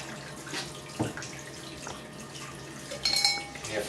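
A pH probe from a Deplox 4 chlorine analyser is rinsed with DI water, giving quiet splashes and trickles, with a few light clinks of the probe and lab gear in a calm room.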